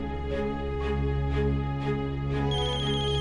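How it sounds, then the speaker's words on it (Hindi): A phone rings with a steady electronic ringtone, its tones repeating in a regular pattern, loud and close with no talking. "माता बाबू का तो हरदम फोने बजत है।"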